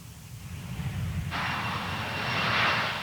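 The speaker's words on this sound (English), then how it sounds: "it can be refueled in the air by a huge tanker aircraft like the KC-135." A huge KC-135 tanker aircraft flies overhead with a steady engine roar that swells into a louder whooshing rush partway through, with no talk.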